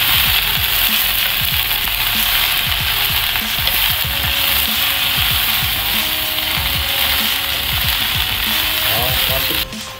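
Water spinach and garlic stir-fry in a hot pan, a loud constant sizzle with repeated scraping and clattering of the spatula, ending abruptly.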